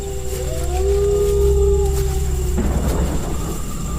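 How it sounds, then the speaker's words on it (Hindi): A fierce storm with strong wind over a village, heard as a steady low roar with a rising, howling tonal whistle that drops away into broad gusty rumble, dense and fairly loud throughout. "इस तरह का तूफान तो जनकपुरी में कभी नहीं आया। इतनी तेज हवा"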